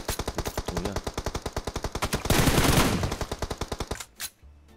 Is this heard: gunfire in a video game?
yes